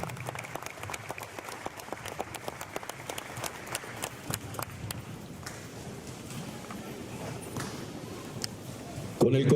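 Audience applause at an outdoor civic ceremony marking the 116th anniversary of Villa Angela, Argentina, with scattered claps and crowd noise, fairly quiet and steady through the whole stretch, with a louder burst at the very end.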